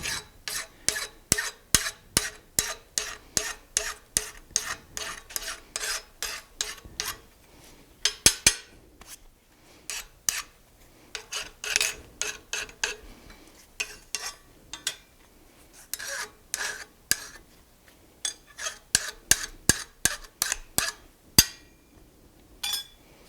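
A hand file rasps a nail header held cold, working in rapid rhythmic strokes grouped into bursts with short pauses, crisp and close with an occasional metallic clink.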